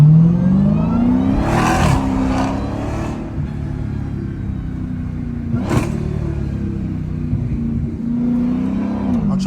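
Dodge Hellcat V8 on a downtown street at night, heard from inside: a rising rev into hard acceleration, loud and close, with sharp throttle blips and gear changes breaking up a sustained throaty roar.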